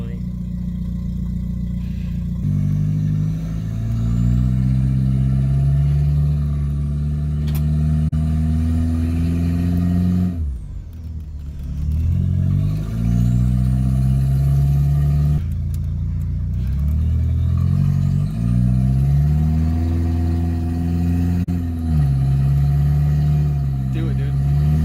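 Mk4 VW Golf turbo engine revving repeatedly, its pitch climbing and falling through several loud pulls with brief drops between, close and steady, with people talking over it.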